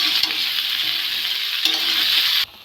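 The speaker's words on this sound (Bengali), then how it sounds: "আলুগুলো একটু ভেজে নিয়েছি, তারপর ঝিঙেটা দিয়েছি" Potatoes and ridge gourd frying in a pan, a loud, steady close-up hiss of sizzling oil with faint stirring scrapes, cutting off abruptly at the end; no one speaks.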